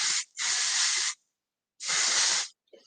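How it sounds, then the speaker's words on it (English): Dry oil spray, containing cannabis sativa seed oil, misted onto hair while finishing a blowout and braided updo: one short burst followed by two longer steady hisses with brief gaps, close and fairly loud, ending in a faint rustle. "what we'll do is we'll work with our dry oil spray here."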